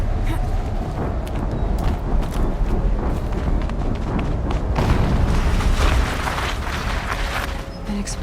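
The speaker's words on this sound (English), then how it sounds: "An explosion." A loud, sustained explosion rumble in the Horizon Zero Dawn video game, dense low-end roar with crackling debris filling the whole stretch, swelling slightly toward the middle before easing off.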